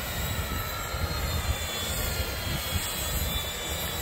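The ArcSpear production prototype aircraft on its first flight circles overhead, and its engine gives a continuous, even drone at a distance with a faint high whine above it. Nobody speaks.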